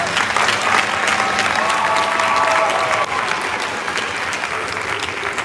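A concert audience at a band performance claps steadily in a dense, even wash of applause that lasts throughout, easing only slightly near the three-second mark.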